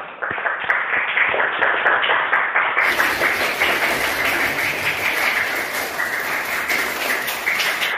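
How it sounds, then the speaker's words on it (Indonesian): Primary school pupils in a classroom applaud together, a quick, busy patter of many small hands that continues throughout at moderate loudness. "tepuk tangan maksimal untuk kalian semua"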